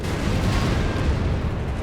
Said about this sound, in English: Big explosions. Units getting torn apart.